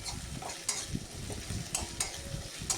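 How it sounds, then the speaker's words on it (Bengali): Onions stir-fried until light brown in a pan for a spicy katla fish curry give a quiet, steady sizzle, with soft scrapes of stirring recurring every half second or so. "কষার কিছুক্ষণ পরে আমি দেখলাম যে পেঁয়াজগুলো হালকা ব্রাউন কালার ধরেছে"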